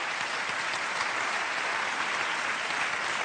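Audience applause at a national ceremony honoring talents from housing estates, an even, steady wash of clapping from a large crowd, heard somewhat distant and unbroken.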